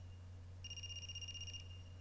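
A phone rings in the video game Ai: The Somnium Files: one bright warbling electronic ring burst lasting about a second, set against a constant low background hum, with no talking.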